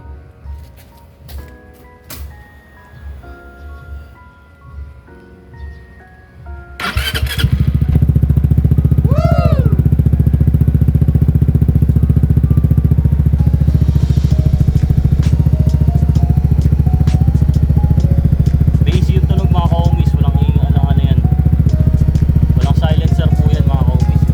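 An Easyride 150 FI motorcycle fitted with a custom rear exhaust elbow starts after a stretch of quiet background sound and then idles loud and close, a steady throaty exhaust drone that carries on to the end.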